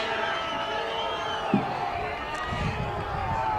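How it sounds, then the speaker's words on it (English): Crowd at a boys' Division III soccer final roars in a dense, sustained wave of shouting and jeering after a foul from behind, with a sharp whistle-like burst mid-way and a commentator's voice over it. "the crowd gets all over him"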